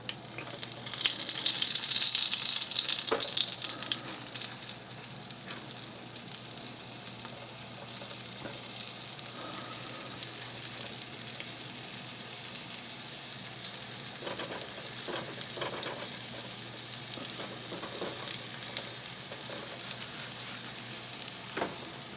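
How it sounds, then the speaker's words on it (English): Venison fillets laid into melted butter over medium heat, a loud burst of sizzling for the first few seconds that settles into a steady, softer frying hiss with occasional faint clinks. "We'll go ahead and lay our fillets right into that butter and let that simmer."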